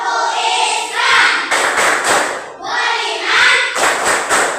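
A group of people, likely a class of students, clapping together in a rhythmic chant pattern for Tepuk Islam. Bursts of quick claps alternate with chanted voices in repeating phrases.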